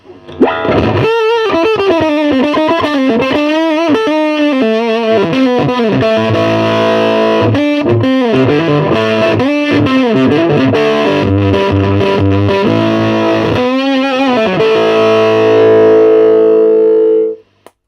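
Electric guitar played through a heavy effects pedal, distorted and warbling, picking out a melodic line with sustained bends and a ringing final note.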